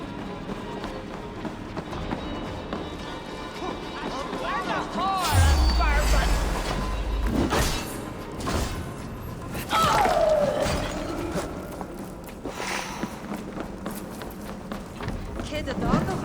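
Running footsteps thud in Assassin's Creed Valhalla, quick and fairly soft beneath frequent character dialogue, with a heavier thump and a sharp crash partway through.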